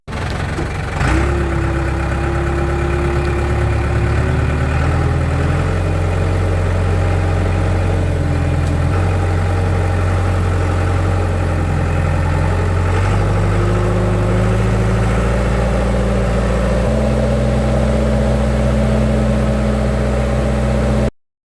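A Vermeer tractor backhoe engine runs steadily and loud throughout, a deep idling drone with low harmonics that shift pitch slightly as the revs change, with no talking.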